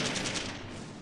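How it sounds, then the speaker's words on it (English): Heavy machine guns rattle in the WWII Russian Front strategy game Close Combat 3, a rapid burst of repeated shots that is loud at first and then tapers into a fading rolling echo. "Let's have the heavy machine guns fire on them as well if they can spot them."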